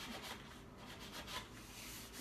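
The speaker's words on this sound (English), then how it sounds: "I am going to go with a little heavier sanding pad" Rhythmic abrasive rubbing of a heavier sanding pad across a painted drum table surface, repeated strokes at close range, steady and scratchy with no talking.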